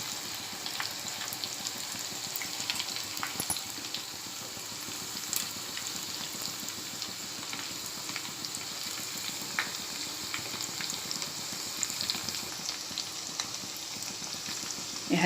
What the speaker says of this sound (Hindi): अभी इसे मैं धीमी आंच पर घुमा घुमा कर गोल्डन होने तक तल के लूँगी।